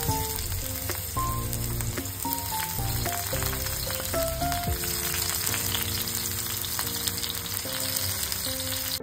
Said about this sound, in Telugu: ఈ టమాటోస్ ఉడుకుతూ ఉంటాయి